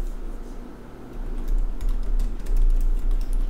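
Rapid clicking keystrokes of typing on a computer keyboard, steady and close, over a low background hum.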